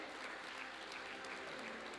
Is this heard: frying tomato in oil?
no